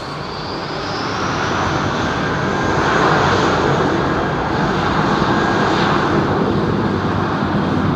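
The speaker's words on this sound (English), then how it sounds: "that's the sound of going on holidays in the 80s right now with that 767" Boeing 767 jet airliner with CF6 engines at Heathrow, a steady loud broadband roar that swells gently over several seconds as the aircraft passes close by, with no talking.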